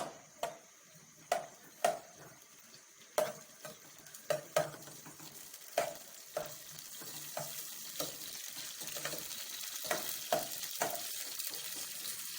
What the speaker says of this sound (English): So we wait for the onions to cook